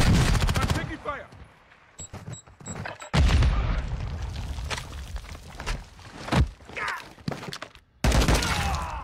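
Video game gunfire crackles in rapid automatic bursts and single shots, loud and close, broken by short gaps, while players talk over it.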